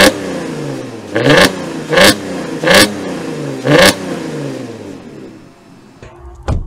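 Ethanol-converted Porsche Cayenne engine, being turned into an off-road van, starting and then blipped through four sharp revs in quick succession, loud and close, before dropping to a steady idle.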